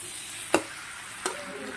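Ginger and garlic fry in a pan, a soft steady sizzle broken by two sharp scraping stirs about a second apart.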